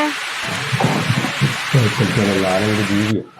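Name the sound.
heavy rain falling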